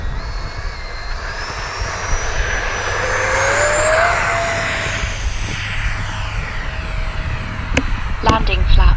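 A Freewing Vulcan 6S RC sport jet with flaps set accelerates down the runway and climbs away, its ducted-fan whine rising in pitch and then sweeping back down as it passes, with steady wind and ambient noise underneath.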